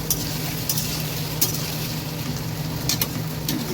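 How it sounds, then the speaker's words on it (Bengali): Potatoes fry in a little oil in a pan, producing a continuous dense sizzle with intermittent scraping and clinking as they are stirred, fairly close and steady. "আলুটা ভাজা হোক"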